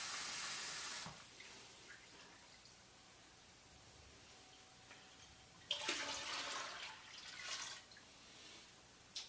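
Water pours and splashes into a pot in a few separate bursts, fairly close, with quiet stretches between pours, while brewing a smoked coffee porter.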